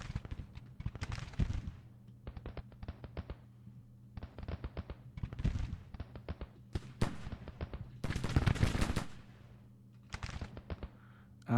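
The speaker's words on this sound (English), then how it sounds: "And we're firing into these guys as well out in the open." Musket and cannon fire in a Civil War strategy game battle: dense, crackling volleys of gunshots in rapid bursts, with heavier booming salvos rolling in, loud and continuous throughout.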